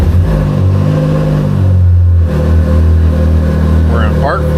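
A Can-Am Maverick R side-by-side engine runs loud and close during a test after a rear magnet replacement, with a steady low harmonic drone that shifts pitch midway as the revs change, and a voice heard briefly near the end.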